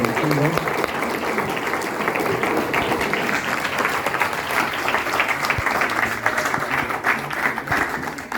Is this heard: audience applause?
yes